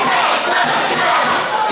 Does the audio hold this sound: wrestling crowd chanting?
yes